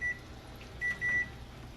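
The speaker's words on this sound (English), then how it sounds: "of course, there goes a timer." Kitchen timer in a home kitchen where chicken livers fry in an iron skillet, giving a short beep and then a longer double beep, faint and thin over low background hum.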